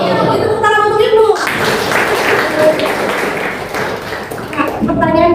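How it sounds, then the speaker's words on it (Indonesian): Pupils in a classroom applaud their teacher with a short round of clapping, starting between bits of speech and fading as voices return. "itu tepuk tangan untuk Ibu"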